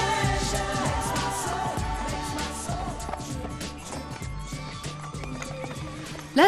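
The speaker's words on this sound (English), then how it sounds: "the traditional way to get round the countryside was in a horse and cart" Horse hooves clip-clopping at a steady pace under music with a sustained melody, plus a brief whinny near the end.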